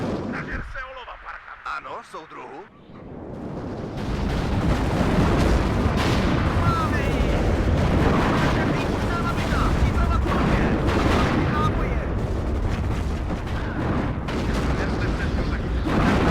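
Artillery fire in the WARNO strategy game, a dense continuous roar of booming shots and blasts that swells in after a quieter opening and holds loud throughout, with a voice speaking over it.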